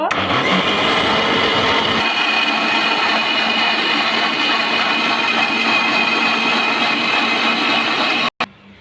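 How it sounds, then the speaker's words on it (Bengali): A kitchen mixer blending pineapple juice runs loud and steady with a continuous whirring drone, then cuts off abruptly near the end. "আমি এখন মিক্সার অন করে দিব"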